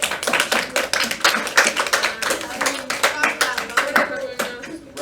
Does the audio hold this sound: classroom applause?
yes